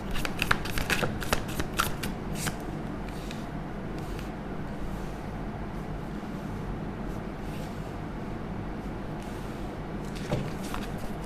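Soft, close papery riffling of tarot cards being shuffled opens the moment, settling into a low steady rustle with a few faint snaps as cards are pulled from the deck, no voices.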